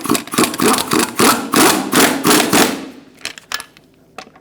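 Rapid rattling bursts of an impact wrench with a 21mm socket tightening lug nuts on a 2005-2010 Chrysler 300 front wheel, a series of loud close hammering pulses that trail off into quieter clicks.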